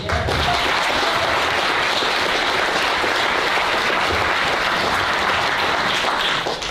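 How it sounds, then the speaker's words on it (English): A crowd in a small community hall at a district candidates forum in Mokelumne Hill applauds the candidates, a loud, even, continuous round of clapping with no pause throughout. "I want a round of applause for all the candidates."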